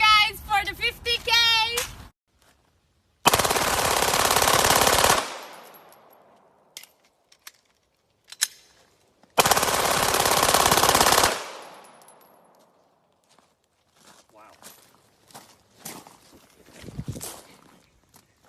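Loud bursts of full-auto fire from a Glock 18 automatic pistol, two long sustained volleys separated by a pause, each trailing into echo, with scattered clanks and handling noises between and a voice talking at the start.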